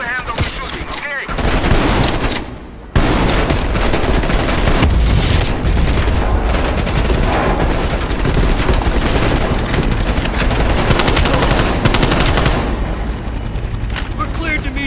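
Heavy, sustained gunfire in a Call of Duty: Black Ops Cold War cutscene, with loud rattling bursts and booms that run almost continuously, mixed with engine roar and shouted dialogue.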